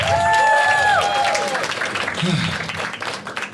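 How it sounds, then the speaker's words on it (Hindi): A stand-up comedy crowd applauds a named audience member during crowd work, clapping under bright whistle-like tones early on, with a voice speaking briefly over the applause. "एक बार हरीश के लिए ताली बजाओ सब लोग।"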